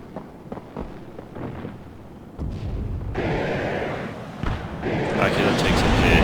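Artillery-style firing from an Aquila unit in the video game WARNO, heard as booming bursts and rumbling blasts through a dense battle mix, with a voice talking over the gunfire.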